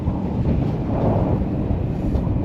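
Steady, heavy wind buffeting the microphone, a constant low roar with no gaps, loud throughout and no voices.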